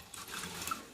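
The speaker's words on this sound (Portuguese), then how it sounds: "coloque água nos 2 copos" Water from a tap pours into two clear glass cups, a short steady splashing hiss, close and fairly quiet.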